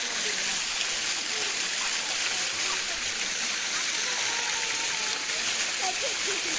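A river flowing at a picnic spot, a loud, steady broadband rush of water filling the whole stretch without a break, with faint voices now and then beneath it.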